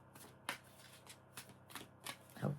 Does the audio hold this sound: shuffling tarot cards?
yes